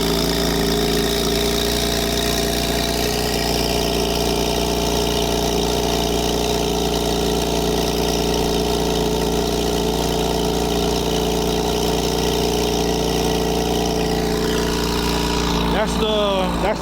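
A Porsche 911 Carrera T (991.2) idles with valves open on its factory sport exhaust and aftermarket downpipe, a steady, burbling drone for a long stretch, close and constant, with a brief higher sweep near the end.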